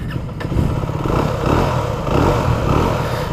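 Mondial Hipster 125 motorcycle engine starting and settling into a steady, loud single-cylinder idle with slight revving, close by.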